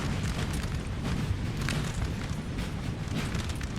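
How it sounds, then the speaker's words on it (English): Artillery in the Napoleonic-era strategy game Napoleon: Total War during the 1812 siege of Valencia, a steady rumble of distant booms and bursts under dense battle ambience, with no clear single shots standing out. "There you go, artillery still going off."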